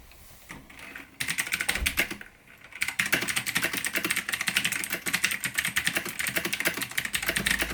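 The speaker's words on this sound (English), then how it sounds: "So I'll give you a quick typing test." Rapid typing on a budget RGB mechanical gaming keyboard from AliExpress, close and steady, a dense run of clicky keystrokes with a short pause early on, no voices.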